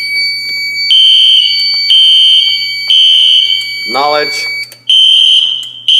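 A home fire alarm system sounds during a test, its shrill electronic horn blaring in repeated bursts with brief gaps, close and loud, while a person talks over it.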